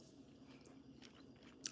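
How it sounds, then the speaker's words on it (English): Someone crunches and chews food up close, quiet bites and chomps in a short run with a sharper crunch near the end. "Y'all over here hear me crunching."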